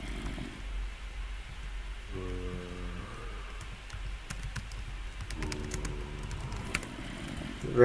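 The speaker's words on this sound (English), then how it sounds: "Rain, go away." Steady rain hisses through a scene from the video game Across The Time, with two short bursts of layered tonal game sounds over the downpour and a few sharp clicks near the end.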